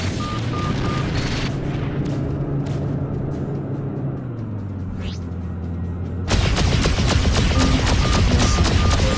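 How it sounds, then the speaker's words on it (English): Missile fire and explosions erupt in the space-combat game Freelancer, a steady roar of weapons and engines that swells sharply louder partway through, with a faint whistle of an incoming projectile, no talk. "Incoming missile. Incoming missile."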